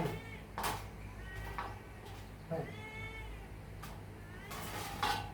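A hungry cat begging for food meows repeatedly, several distinct rising and falling calls spread through the clip, fairly close, with quiet talk in the background.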